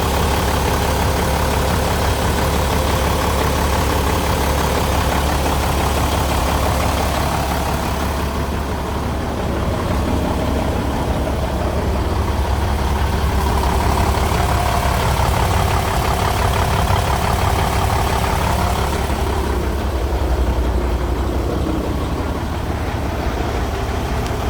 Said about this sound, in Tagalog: Ayan boss, 12 wheeler Isuzu Gigamax 6WF1 inline.